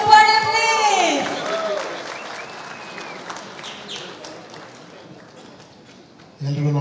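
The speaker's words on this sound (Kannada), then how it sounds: "ನಾವೆಲ್ಲರ ನೆಚ್ಚಿನ real star Uppi sir, Upendra sir ಅವರಿಗೆ ಒಂದು ದೊಡ್ಡ ಚಪ್ಪಾಳೆ ಪ್ಲೀಸ್" A crowd at a stage event for the film Salaga breaks into applause for actor Upendra, loud at first and then thinning and fading, with a voice over the opening moments.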